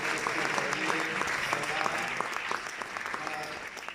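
Sustained audience applause at the opening speech of the 31st AATF congress, a dense steady clapping crowd filling the hall for the whole stretch with no voice over it.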